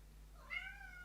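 Reiku the cat lets out one soft, rising-then-falling meow, faint against a steady low hum with no talk over it.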